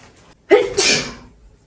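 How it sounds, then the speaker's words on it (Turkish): A single close, loud allergy sneeze triggered by dust, with a sharp intake followed by a burst, then quiet. "Alerjim tuttu hapşıracağım"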